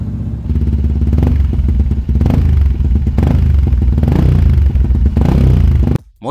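A loud Yamaha Y15ZR motorcycle with a stainless steel racing exhaust revving hard in repeated bursts, rough and throaty, cutting off abruptly at the end.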